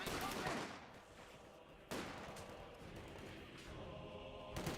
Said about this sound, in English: Pioneers taking some fire there from the rifle squad